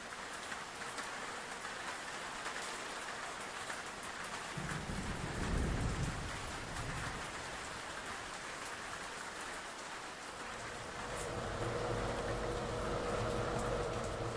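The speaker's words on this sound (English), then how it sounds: "Lightning storm? Oh, it is! Actually, it's raining." Video game sound: steady rain patters on a surface while low rumbles of thunder roll in twice, swelling and fading beneath the downpour.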